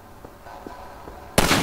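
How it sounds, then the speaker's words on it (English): A single sharp rifle shot rings out in Half-Life 2 Episode One, fired at a ladder latch: a sudden loud broadband crack that sustains briefly after faint quiet background ticks. "Let me shoot out the latch."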